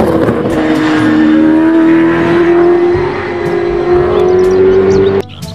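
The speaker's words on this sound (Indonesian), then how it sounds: "Wah, ada mobil balap." A race car engine drones loudly and steadily, its pitch slowly climbing as it revs, close and continuous for about five seconds before cutting off abruptly, with no talking.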